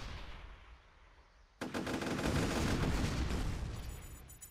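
Video game gunfire opens suddenly after a quiet stretch of low background noise, becoming a loud rapid stream of shots that rattles on close and continuous to the end.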